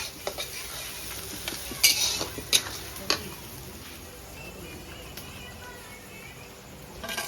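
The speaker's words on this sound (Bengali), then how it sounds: "এই আচের রান্না, উফ মাংসটা যা হবে খেতে" Meat frying over a fire in a pan at a homestyle roadside eatery, a low steady sizzle broken by sharp clinks of a metal spatula scraping and stirring at irregular intervals.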